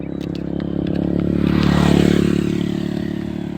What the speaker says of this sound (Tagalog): Kaya ang dami ng 4 wheels na dumadaan, tricycle at motor dahil napakalapit